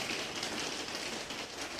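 Steady rain falls as soft, continuous broadband hiss with dense pattering drops across the whole stretch, even and unbroken, with no voices over it.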